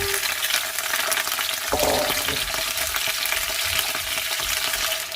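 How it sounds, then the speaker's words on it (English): Potatoes sautéing in a few tablespoons of cooking oil in a pan, a steady loud close-up sizzle running throughout with a brief stir or shift partway through, no talking. "I'm going to saute and cook these for about 5 to 7 minutes before I add the rest of the ingredients"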